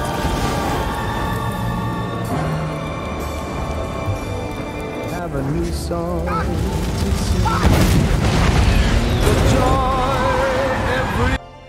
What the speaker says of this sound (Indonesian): membuat tempat itu meledak tak tersisa